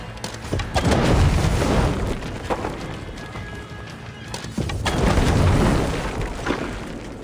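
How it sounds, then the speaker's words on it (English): Walls blowing apart in Assassin's Creed Valhalla, Dawn of Ragnarok, heavy rumbling booms rolling in two broad swells over a dense bed of crashing debris and battle noise, loud and close. "A lot of exploding walls."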